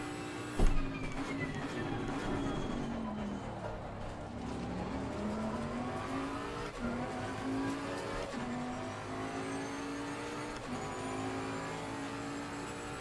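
A race car engine on a fast lap at Spa in Assetto Corsa Competizione, a steady loud whine that climbs and drops through repeated gear shifts, with a sharp knock early on and no talk.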